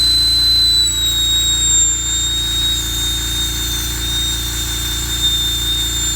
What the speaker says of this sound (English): And I'm letting the burr do the work